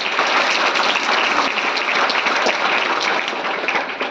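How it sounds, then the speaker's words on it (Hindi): Loud, dense applause from an audience honouring a student at a school gathering: continuous clapping from many hands, close and steady for the full duration without a break. "मैं चाहता हूं शिवानी के लिए आप जोरदार तालियां बजाएं।"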